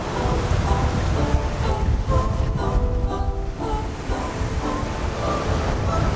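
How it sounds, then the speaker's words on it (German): Ocean waves rush past a sailboat during an Atlantic crossing, a loud continuous surging wash with deeper swells rising and falling throughout. "Die Wellen schieben uns unglaublich an, wir surfen jedes Mal so richtig mit."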